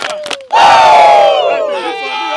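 A crowd at a football game between the SF Browns and SW Florida lets out a loud, sustained collective "woo" shout that swells suddenly and trails off, preceded by a short burst of sound and a voice.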